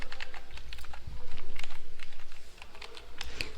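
Keystrokes on a computer keyboard entering a superuser password at a login prompt, a dense run of clicks with brief pauses between them, close and fairly loud over a faint background hum.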